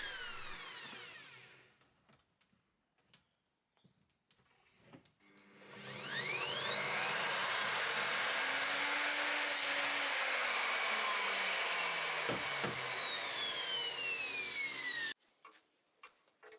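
A bandsaw cuts ash wood blanks for screwdriver handles in a workshop: a few ticks and clicks, then a loud steady whirring cut lasting about nine seconds that stops abruptly.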